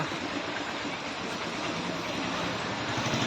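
A train at a railway station, the Karimnagar–Tirupati train standing ready, a steady low rumble and hum of an idling engine, close and continuous, with no one talking.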